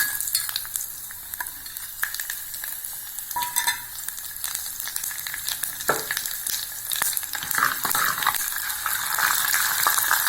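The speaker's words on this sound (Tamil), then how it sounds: "கடுகு, உளுத்தம்பருப்பு, ஜீரகம், வெந்தயம், கடலைப்பருப்பு இதை போட்டு நம்ம தாளிச்சுக்கலாம்." Mustard seeds, urad dal, cumin, fenugreek and chana dal are tempered in hot oil for a kuzhambu, giving a steady, close sizzle with scattered sharp crackles and pops that build slightly toward the end.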